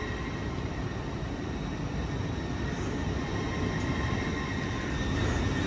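A Lumo train departing from Kings Cross station, heard as a steady, low rumbling drone with a faint tonal whine, constant and fairly loud throughout, with no talk.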